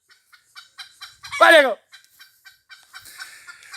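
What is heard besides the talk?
rooster crowing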